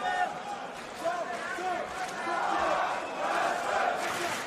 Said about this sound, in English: And the crowd here in Copenhagen chanting Madsen's name.